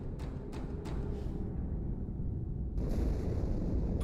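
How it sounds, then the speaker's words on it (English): An explosion in the Halo 2 game, a low rumbling blast under a steady background roar, with a few soft thumps at the start and a renewed surge near the end. "Die Explosion kam aus dem Innern der Athen, genau wie bei der Malta."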